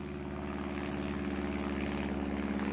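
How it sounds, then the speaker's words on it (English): A propeller aeroplane drones overhead, a steady, moderately faint engine hum holding constant throughout with no speech. "And there we go, look, there's the aeroplane."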